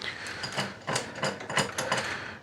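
A ratchet wrench works loose the crankshaft main bolts on a Citroën 2CV air-cooled flat-twin engine, rapid clicking bursts in several close, loud strokes with short pauses between, no voices.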